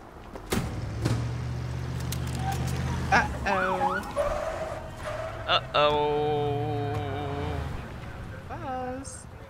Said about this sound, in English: Look at the ambulance. Just rolls up.